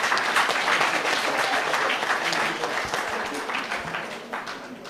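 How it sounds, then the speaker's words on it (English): An audience at a handover ceremony for housing units claps in sustained, dense applause that stays loud and steady before easing slightly toward the end. "Let's give them a round of applause again"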